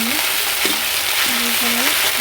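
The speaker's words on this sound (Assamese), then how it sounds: "তেল গৰম হ'ল ইয়াতে পিঁয়াজ দিলোঁ" Onions frying in hot oil for a meat curry give off a loud, steady sizzle that fills the whole clip, with a few short stirring scrapes and a low hum underneath.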